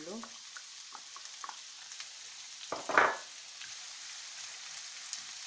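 Onion frying in a little oil in a heated pan gives a steady, faint sizzle, with a louder burst of crackling as it is stirred or added midway.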